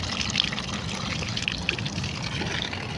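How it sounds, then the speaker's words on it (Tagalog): Running water splashing steadily over hands at a sink, a continuous broadband trickle and gush close to the listener with small irregular splashes throughout. "Tapos na tayo maghugas ng kamay."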